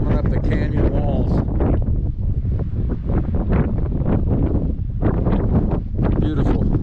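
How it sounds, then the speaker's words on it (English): Strong wind rising up canyon walls in Canyonlands National Park, roaring against the microphone in continuous loud gusts while someone talks over it. "Lots of wind coming up the canyon walls."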